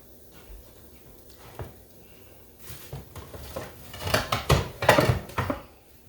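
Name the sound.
getting a plate from the kitchen cupboard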